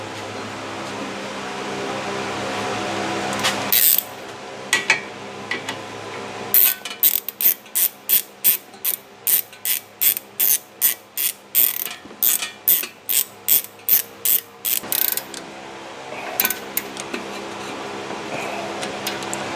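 Ratchet clicks in quick regular bursts while tightening the front brake bolts on a 2010 Toyota Highlander, close and loud with short pauses between strokes, against a quiet garage hum and no talk.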